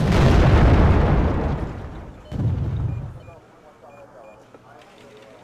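Tank cannon shots and explosions from Panzer tanks in a war strategy video game: a heavy booming blast, then a second shorter boom, each fading into a rumbling tail, with someone talking over them.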